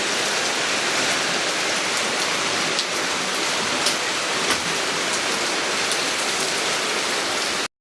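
Heavy rain pours steadily and loudly onto surfaces during a thunderstorm at an outdoor bathroom building site, a dense unbroken hiss with scattered louder drops and no voices.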